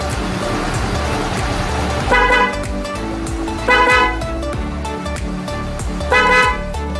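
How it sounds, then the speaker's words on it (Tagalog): A MOCC dual horn wired with a relay on a motorcycle sounds three short, loud honks spaced a second or so apart over a steady background rumble, with no talking. "Try natin yung ating bago install na MOCC dual horn with relay po yan."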